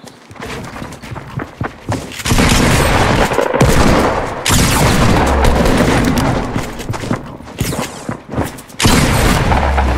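A Fortnite firefight with bursts of gunfire and heavy shotgun blasts, loud and close, arriving in dense rattling volleys broken by brief pauses.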